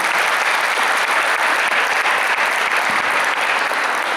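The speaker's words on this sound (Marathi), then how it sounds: "जोरदार टाळ्या एकदा सुयोगसाठी" A concert audience at a Marathi music program breaks into loud, sustained clapping for a singer, an even wall of applause lasting the whole stretch with no talk on top.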